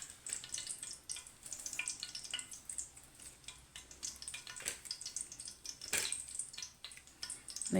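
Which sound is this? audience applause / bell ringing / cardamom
cardamom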